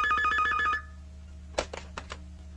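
A telephone rings with a rapid trilling electronic bell burst that cuts off, followed by a few sharp clicks and clunks as the receiver is picked up.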